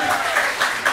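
Applause from a live audience at a concert, a steady crowd clapping wash, heard briefly under a voice speaking.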